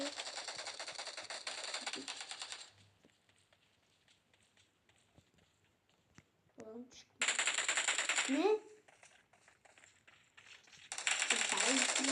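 Bursts of rapid automatic gunfire from the PUBG battle-royale video game come in loud dense stretches separated by quieter gaps with scattered single shots and faint movement sounds.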